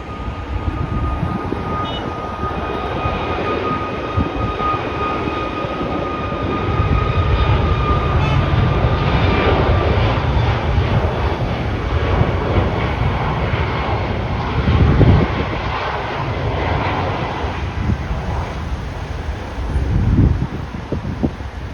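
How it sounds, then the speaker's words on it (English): A Ryanair airliner takes off at Tirana Airport, its jet engines a sustained distant roar with a faint whine, swelling and rumbling over the full stretch, heard from a hotel overlooking the runway. "let's watch somebody take off"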